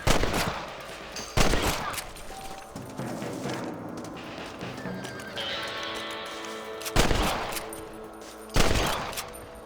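Rifle shots fired at rabbits in the Red Dead Redemption video game, several sharp loud cracks spaced a few seconds apart, with horse whinnies and hoofbeats between them.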